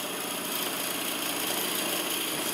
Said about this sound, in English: If the ash is particularly open grained, the drill may want to wander.